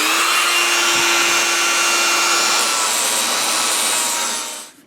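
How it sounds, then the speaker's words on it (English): A Dremel fitted with a coarse 80-grit sanding drum grinds on a Mercedes-Benz W126 S-Class wheel during refinishing, giving a continuous high whining rasp, close and loud, that winds down at the end. "I have a coarse, I think it's an 80 grit drum barrel on the Dremel."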